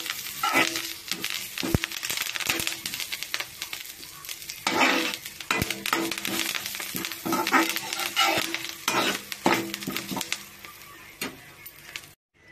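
Whole spices and curry leaves frying in hot oil in a pan, a loud, steady crackling sizzle broken by bursts of popping and spoon scrapes for the whole stretch.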